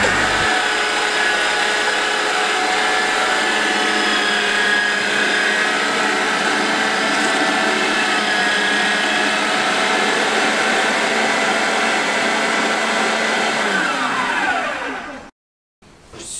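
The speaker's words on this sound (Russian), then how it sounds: "включаем мясорубку" An electric meat grinder runs steadily, mincing veal through a coarse plate, a loud continuous motor whir with no talk, cutting off abruptly near the end.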